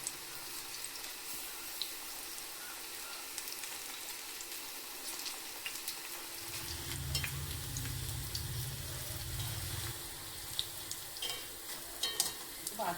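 Onion pakoda batter dropped in small pieces into hot oil, a steady bubbling fry that deepens into a fuller, louder sizzle partway through, with occasional clicks of a utensil nearby, no talking.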